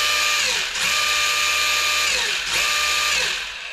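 A brushless electric motor in a Schumacher Cougar LD2 RC car, the original motor before replacement, whirs up in two steady high-pitched whining runs, each winding down with a brief dip before spinning up again.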